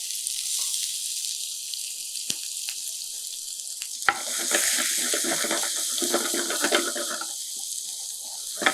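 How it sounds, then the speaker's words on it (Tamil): Small chopped onions hit hot oil in a pan and set off a broad, steady sizzle, with a few scrapes and clinks of stirring partway through. The frying is close and continuous. "எண்ணெய் சூடானதுக்கு பிறகு சின்னதாக நறுக்கி வச்சுருக்கிறேன் இந்த வெங்காயத்தை சேர்த்துலாம்."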